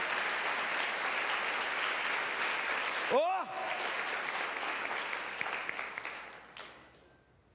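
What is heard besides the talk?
audience applauding in church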